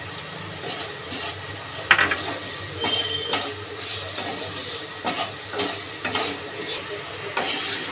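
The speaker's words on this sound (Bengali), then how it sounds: "বেশ কিছুক্ষণ ধরে বিস্কুটের গুঁড়োটা দিয়ে নাড়াচাড়া দিয়ে ভেজে নিয়েছি" Onion and green chilli frying with biscuit crumbs for Mughlai paratha filling, a utensil scraping and stirring against the pan in irregular clinks over a steady low sizzle, close and alone without talk.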